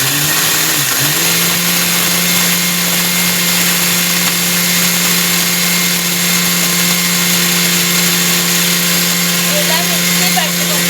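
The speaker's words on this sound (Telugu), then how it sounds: "ఇలా మిక్సీ పట్టుకున్నాం. ఒక్కొక్కసారి ఆపుకుంటూ పట్టాలి." A mixer grinder (mixie) blends an ingredient into fine powder, its motor giving a loud, continuous whine that dips briefly near the start and then holds steady at an even pitch.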